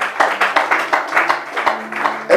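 A church congregation applauds in steady, rhythmic unison, loud and close, the claps falling in an even beat with a faint sustained organ-like tone underneath.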